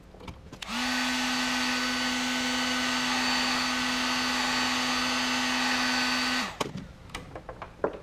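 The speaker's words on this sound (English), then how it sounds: "now we're going to heat shrink that again, and it should create a bond right there." A heat gun blows steadily for about six seconds as heat shrink tubing is shrunk over braided wire, a loud constant whirring hum that starts and cuts off abruptly, with quiet handling clicks before and after.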